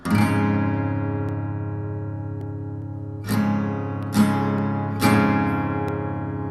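An acoustic guitar chord strummed and left ringing, then strummed three more times in quick succession, close and clear with no voices.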